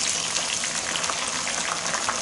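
Chopped tomatoes go into golden fried onions for aloo matar keema, raising a dense, even hiss of frying that stays loud and steady throughout.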